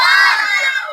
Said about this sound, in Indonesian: tepuk tangan buat Mas siapa namanya?